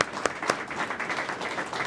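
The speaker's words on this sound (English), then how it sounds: "So a big round of applause for the" Audience applause at a ship event honoring crew members, a dense, moderately loud stretch of clapping with a few sharper individual claps standing out near the start.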